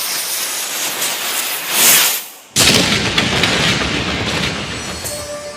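A cannon fired by British troops at the execution of Raja Shankar Shah and Kunwar Raghunath Shah: a brief hush, then a sudden loud broadband blast that rolls into a sustained roaring rumble, with no voices.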